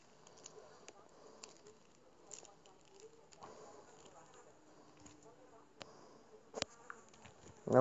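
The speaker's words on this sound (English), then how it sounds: "Again, the buzzing flies." Flies buzzing faintly in a messy room, a soft, continuous insect drone running throughout with scattered light clicks and patters and a sharper knock near the end.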